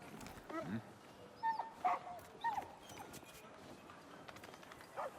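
A dog in an online role-playing game, standing in a town where it gives a quest, lets out a few short whimpering yips and barks, moderately close against a low ambient bed.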